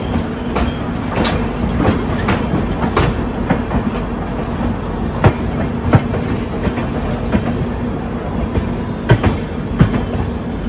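A passenger train rolls into Bardhaman junction, its steady rumble and rail noise filling the scene with repeated wheel clicks and occasional metallic squeals, close and continuous.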